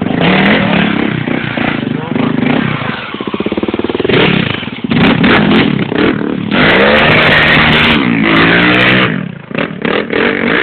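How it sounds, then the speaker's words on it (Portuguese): A Tornado 340cc motorcycle engine revs loudly and close up, with repeated rises and falls in pitch through the stretch and some clattering, while people talk over it. "Quanto cilindrada essa moto?"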